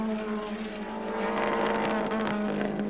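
A 1990 touring race car at Phillip Island runs with a bad misfire, a steady droning engine tone with rough uneven pops, heard as a continuous roar at racing speed.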